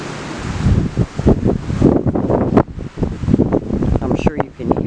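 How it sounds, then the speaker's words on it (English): Gusty wind buffeting a microphone outdoors on a cold, very windy day, rumbling and rustling in uneven bursts, with a voice speaking underneath. "I'm sure you can hear the wind in the camera,"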